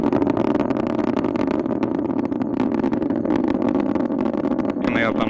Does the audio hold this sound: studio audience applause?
no